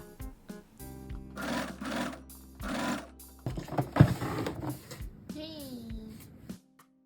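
A sewing machine stitches a fabric sleeve in short, steady whirring runs, quite close, with a voice speaking over part of it.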